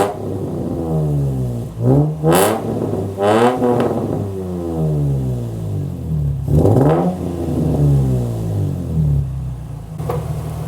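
A Nissan 350Z with a newly fitted Kinetix exhaust manifold, starting for the first time and then idling and revving, close and loud, with repeated rising and falling throttle blips over a deep steady drone.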